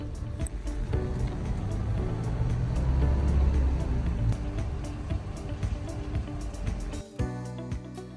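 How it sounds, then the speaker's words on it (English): A truck in four-wheel drive low creeps down a steep hill at night, its engine a continuous close, low rumble with faint clanks and rattles, briefly dropping off near the end. "I'm going to put it in four-wheel drive low."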